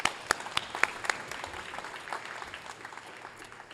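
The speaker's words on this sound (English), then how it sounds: "So please will you give them another round of applause." Audience applause at a WRO robotics event launch, a brief burst of distinct claps that thins into softer, scattered clapping over a few seconds, fairly faint and with no talk over it.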